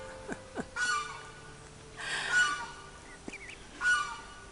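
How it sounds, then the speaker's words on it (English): Adolescent ducks honk and call in a garden, with several separate raspy quacks and squawks spaced across the clip, close and clear over a quiet outdoor background. "Little adolescent duckies."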